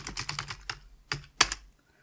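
Keyboard typing while playing the King's Quest III computer game: a short run of crisp, close keystrokes in an uneven rhythm, with a couple of harder key hits, then silence.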